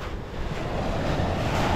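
Winter sea waves washing onto the shore, a steady, close rush of surf that swells slightly over a brief stretch, with wind noise on the microphone and no talking.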